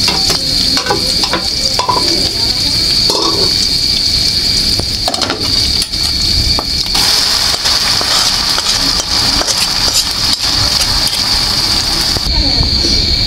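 Jute leaf greens frying in a pan with onion and garlic for lentil dal, a loud continuous sizzle with stirring and occasional clatter throughout.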